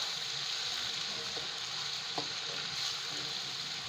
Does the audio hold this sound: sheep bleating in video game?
no